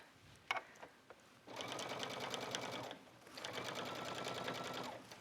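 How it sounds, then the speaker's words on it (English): Sewing machine stitching the seam of an upcycled sweater, two steady close bursts of rapid mechanical whirring separated by a short pause, after a few faint clicks at the start. "So what I'm doing is as I'm sewing, I'm just maneuvering the fabric and I'm pushing that seam allowance out of the way."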